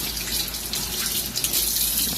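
Water runs steadily from a tap with a soft, continuous splashing hiss, close by and with no talking.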